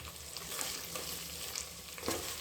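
Ginger garlic paste and spices frying in a pan for chicken curry, a steady soft sizzle with a few scraping stirs, close and alone without talk.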